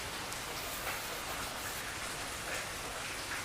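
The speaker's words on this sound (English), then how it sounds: "As the rain has gotten a bit severe now" Heavy rain pours down onto a garden of potted hoyas and orchids, a dense, constant hiss of drops striking surfaces that fills the scene without pause.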